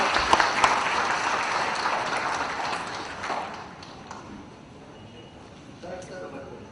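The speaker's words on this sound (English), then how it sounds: "Can we have a huge round of applause?" Applause from a conference audience at a felicitation ceremony fills the room, loudest at the start and gradually thinning out, with a brief swell near the end.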